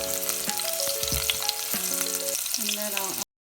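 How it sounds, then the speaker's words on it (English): Garlic sautés in a hot pan with a steady, close sizzle and light stirring, while soft music plays in the background until the sound cuts off abruptly. "let's start sauteing garlic first"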